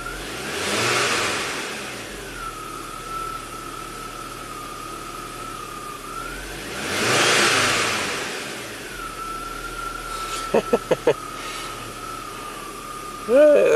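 A 1991 Audi 200 Quattro 20V Turbo engine revs twice in long swelling pulls, settling back to a steady idle between them, followed by a few sharp clicks and a final short blip at the end.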